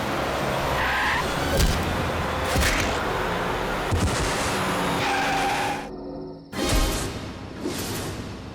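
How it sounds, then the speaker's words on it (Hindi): A car skids with squealing tires in a dramatic scene, loud screeching bursts over a noisy, driving background, then a sharp impact-like thud near the end. "डरो मत ऋचा, पीने के बाद में और भी सेफ गाड़ी चलाता हूँ।"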